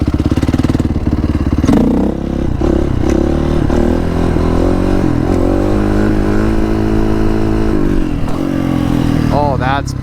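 Motorcycle engine held high in the revs while riding, a loud, steady buzzing drone that rises and falls with throttle changes, with scraping and clattering from the ride and a voice talking over it.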